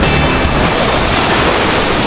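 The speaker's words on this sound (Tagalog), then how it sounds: "Medyo high tide kaya ang lakas ng alon talaga." Strong ocean waves surge at high tide on the shore of Halian Island, Surigao del Norte, a loud, continuous roar of crashing surf with heavy wind buffeting the microphone throughout.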